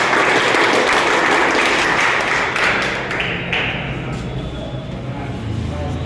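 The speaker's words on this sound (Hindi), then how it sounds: "ताली बजाएं सर के लिए।" A gathered audience at an education institute's opening event in India applauds a teacher. A loud, dense wash of clapping fills the room throughout, holding steady with a slight drop in intensity after the first few seconds.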